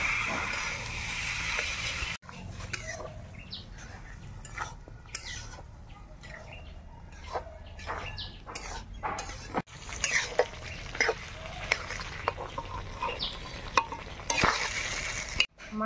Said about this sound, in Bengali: এবার সেদ্ধ রাখা মানকচুটা আমি দিয়ে দেবো